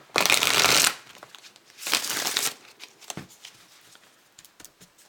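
A deck of tarot cards is shuffled up close in two loud, crisp riffling bursts, followed by softer card handling and light taps.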